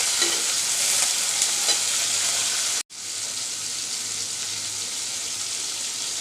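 Shrimp sizzle steadily in hot oil, a loud close crackling hiss with faint stirring scrapes, broken by one brief dropout before the frying continues.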